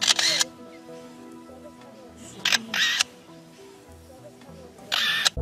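A lyrebird mimics a camera shutter, producing three separate bursts of rapid mechanical clicks over soft warbling birdsong.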